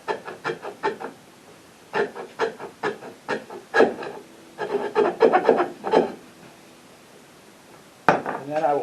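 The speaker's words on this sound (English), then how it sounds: "I'm going to knock that off with this file." A hand file rasps across a wooden acoustic guitar neck in short rhythmic strokes, close and crisp, in bursts with brief pauses and a final scrape.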